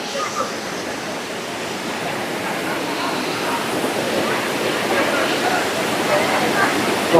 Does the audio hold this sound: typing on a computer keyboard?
no